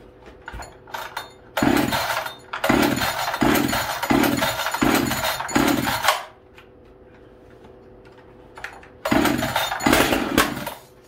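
Echo CS-590 chainsaw being pull-started with no choke, giving a run of about six rhythmic recoil pulls, each with a brief engine cough, then a pause and another loud burst near the end.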